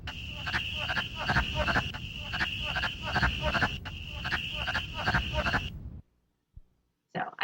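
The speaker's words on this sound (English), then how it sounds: "You can all hear the wood frogs." A recording of wood frogs calling in spring: a dense chorus of rapid, duck-like clucking croaks, moderately loud and continuous for about six seconds before cutting off to near silence.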